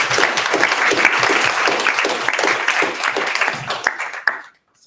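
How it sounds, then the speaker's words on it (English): Audience applause for a keynote speaker at an academic conference, a dense steady patter of many hands clapping close by that thins out near the end and stops abruptly into silence. "let's give a round of applause to Dr."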